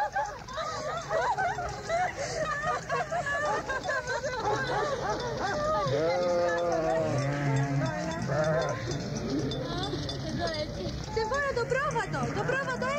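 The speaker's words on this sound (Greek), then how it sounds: "Έρχονται κάτι κοπέλες με τα πρόβατά τους." A flock of sheep bleats repeatedly in overlapping calls, close and fairly loud, with a steady background hum, while voices speak alongside the animals.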